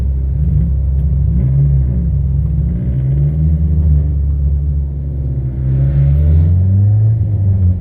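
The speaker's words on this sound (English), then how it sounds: "And so now this car's running again" A 1996 Saturn SL1 with a troublesome engine runs steadily, a close deep rumble with a low droning hum that rises and falls slightly as it revs, with no talking.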